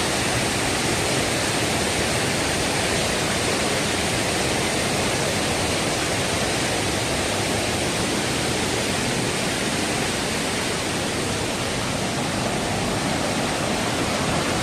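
Marottichal waterfall in Kerala, flowing with reduced water outside the monsoon, gives a dense, constant roar of falling water, loud and unbroken throughout with no voices.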